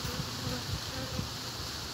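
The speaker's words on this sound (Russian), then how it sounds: "Вот, прошла минута, и эта пчелка освободилась." A honey bee buzzes faintly and steadily after freeing itself following a sting, a thin continuous hum close by against a soft outdoor background.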